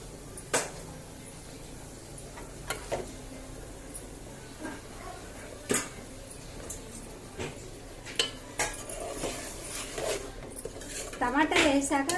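Clinks and scrapes of a spoon against a metal cooking pot as tomatoes go into a pan of drumsticks, with scattered sharp knocks, fairly close, growing busier toward the end, with no talk.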